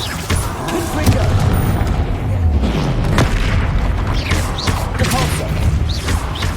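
Booming blast of the Confringo fire spell in the Hogwarts Legacy video game, loud and sustained amid dense combat effects and rumbling low end, with spoken spell calls over it.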